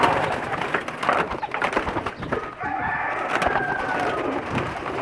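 A special Pakistani pigeon coos in a loft, soft throaty calls repeating over steady bird chatter and rustling nearby, with no speech.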